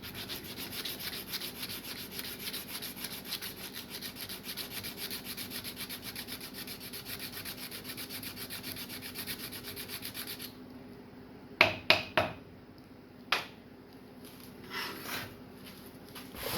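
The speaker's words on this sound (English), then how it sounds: "Now we're actually going to sand it" A custom spinner is sanded with steady, raspy back-and-forth rubbing for about ten seconds, close and quiet, followed by a few scattered knocks and scrapes.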